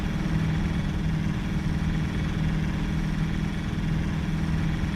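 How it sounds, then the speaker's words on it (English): Truck engine droning steadily in American Truck Simulator, a continuous low rumbling hum with an even, vibrating texture, holding at a constant loudness with no voices over it. "she's a nice engine. It just does not sound good at high RPMs"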